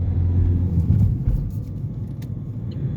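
A car pulls away and turns right during a driving test, heard from inside as a low steady engine rumble that eases slightly as it moves, with faint clicks over the top.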